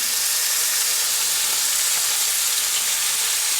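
Bacon strips fry in a pan with a loud, continuous, dense crackling sizzle that stays even throughout, close up and with no voices.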